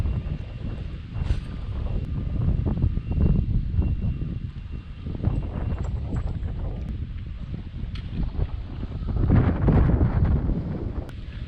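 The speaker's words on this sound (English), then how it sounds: "Wind's a little bad today." Constant wind rumbles and buffets a microphone out on a boat while bass fishing, a loud, close, steady roar that swells in gusts with no clear talk over it.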